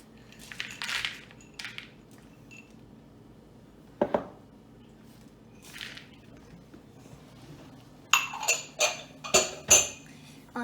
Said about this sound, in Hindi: अब मैं चॉकलेट चिप्स और पीकन्स अंदर डालूंगी।